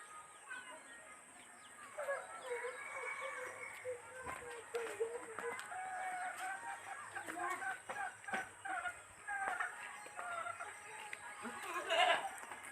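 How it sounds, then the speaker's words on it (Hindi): Three goats bleating outdoors among fowl, with repeated wavering bleats over a constant background hum and occasional voices. "यहाँ देख सकते हैं, यहाँ 3 बकरी है।"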